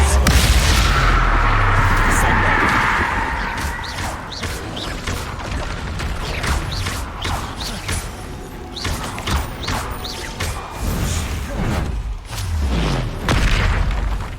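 The Bombarda explosion spell in the game Hogwarts Legacy bursts with a deep, rumbling boom, then rattling debris, thuds and clattering impacts play out over several seconds, loud and close.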